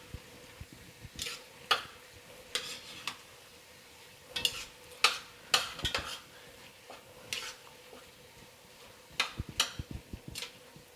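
Ground beef browning in a pan for seafood-stuffed bell peppers: a utensil repeatedly scrapes and clinks against the pan in irregular bursts over a faint, steady sizzle.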